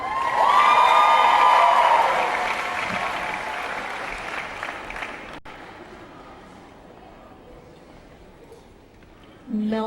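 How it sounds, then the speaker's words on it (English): An audience at a city festival concert claps loudly at first, the applause fading steadily to a thin patter, with whistles or tonal shouts early on and a voice returning at the end. "give them one more round of applause"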